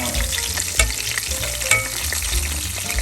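Pork for sisig deep frying in hot oil while a spoon bastes it, a dense, loud crackling sizzle throughout with two sharper spits and light spoon contact.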